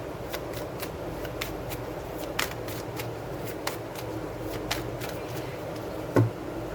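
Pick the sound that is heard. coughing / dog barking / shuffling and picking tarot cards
shuffling and picking tarot cards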